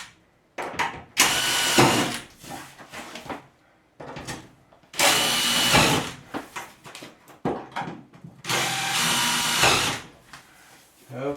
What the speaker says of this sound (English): Kind of got to pre-tap some holes to run the screws in to hold the whole unit together.